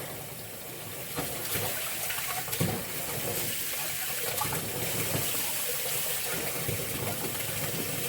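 A tap runs cold water into a tub for a dog's bath, giving a steady, soft rushing hiss with a few small splashes and clunks along the way, moderately faint and with no talking.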